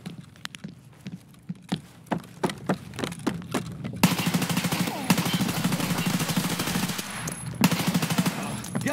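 Gunfire in the video game Escape From Tarkov, with a fast run of single shots followed by a dense sustained burst of automatic fire, loud and close, with no talk over it.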